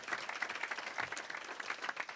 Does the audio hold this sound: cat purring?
no